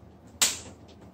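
A single sharp plastic click as a part is pressed and snaps into its groove, close and crisp, followed by a faint softer tick in a quiet room.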